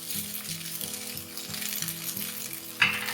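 Steady loud sizzling and frying fills a pan of chicken chowmein as spaghetti goes in, with rhythmic stirring scrapes recurring about every half second and a brief sharp clink near the end.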